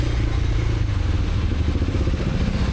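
A motorcycle rides through Delhi traffic, its engine a steady, loud, continuous rumble with rough clatter, close and unbroken for the whole stretch, with no talking.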